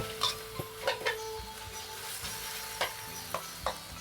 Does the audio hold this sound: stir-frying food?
yes